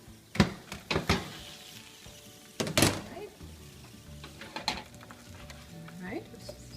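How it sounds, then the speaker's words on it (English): Roasting vegetables being turned in a pan give close scraping and stirring clatter with a couple of soft thunks and a faint sizzle between the moves. "Halfway to cooking, we're ready to turn these vegetables."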